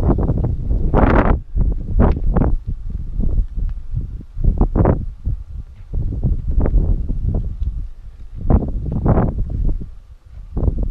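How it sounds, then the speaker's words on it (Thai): Strong wind gusts buffet the microphone on a foggy hilltop at the Pilok mine near the Myanmar border, with loud, irregular roaring bursts and rumbles throughout. "ข้างบนนี่ลมอาจจะแรงสักหน่อยนะครับอาจจะมีเสียงรบกวนนะครับ"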